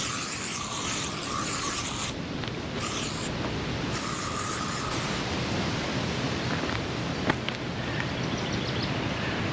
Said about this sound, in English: I'm gonna have to bug spray up.